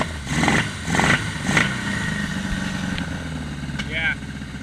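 Yamaha XS1100 motorcycle engine on Speeduino fuel injection idling steadily nearby, its rough mid-pitched rumble running under loud, intermittent talk as the idle climbs while it runs out of gas.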